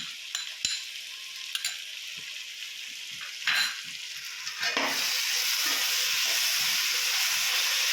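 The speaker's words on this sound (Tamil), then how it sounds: "நல்லா பச்சை வாசனை போகிற மாதிரி கிளறி விட்டுருங்க." Ginger garlic paste and onions sizzle and crackle steadily in a pan for a coconut milk mutton biryani, with stirring scrapes early on and the frying hiss growing louder and denser partway through.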